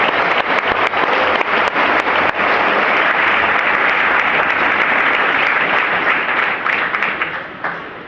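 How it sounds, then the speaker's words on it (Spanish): Sustained applause from a church congregation fills the space, steady dense clapping holding level for several seconds before gradually tapering off at the end. "¿Cuánto le da un aplauso al Señor por eso?"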